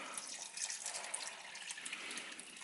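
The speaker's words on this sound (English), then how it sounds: "Now we've added the water." Steady water pouring and splashing into a blender, a continuous broadband rush with small gurgles, fairly quiet and close, with no talking.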